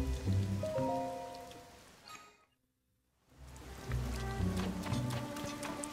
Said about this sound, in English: Be troublesome in this rain